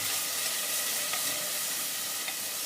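Tomatoes stir-fry in a pan for dal mash, a steady bright sizzle with a couple of faint stirring scrapes, close and continuous with no talking.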